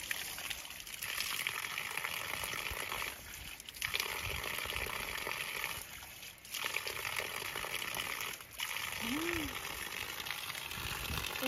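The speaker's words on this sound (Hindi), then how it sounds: "यहाँ पे है नेचुरल वाटर" Natural water flowing in a village field on a hot day, a steady, fairly quiet gushing and trickling wash that runs unbroken with slight dips, heard close with no talk.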